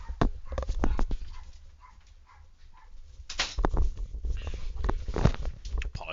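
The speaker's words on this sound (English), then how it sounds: "I'm so sorry if you hear those dogs." Dogs bark and whimper in the background of a home office, with several short yelps scattered through the stretch and someone speaking over them now and then.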